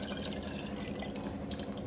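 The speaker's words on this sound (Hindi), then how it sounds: "अब हम इसके अंदर डालेंगे पानी, 2 ग्लास पानी डाल रही हूँ" Water is poured into a pressure cooker holding mutton and urad dal, a steady, close splashing rush that continues without a break.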